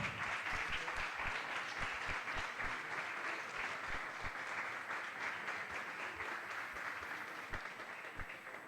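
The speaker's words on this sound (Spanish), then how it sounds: "Les pido un fuerte aplauso." Audience applause at a book presentation in a library, steady, even clapping that sounds fairly distant and quiet, holding throughout before thinning slightly at the close.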